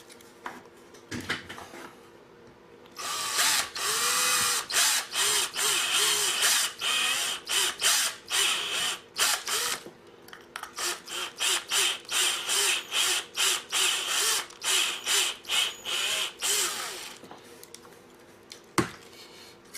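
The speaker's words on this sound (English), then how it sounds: "What I'm going to do, I'm going to bring in the step drill." A step drill bites into metal in repeated short bursts, a rhythmic grinding whine with brief pauses between each push.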